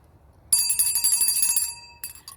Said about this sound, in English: Let me get my hug bell.